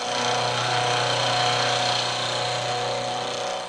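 A milling machine cutter running through metal during plain indexing gives a loud, steady mechanical whine and grinding drone that holds evenly for several seconds before easing slightly at the end.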